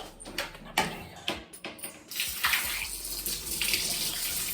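Water runs steadily from a tap into a bucket after a few knocks and clatters, the gushing continuing loudly to the end.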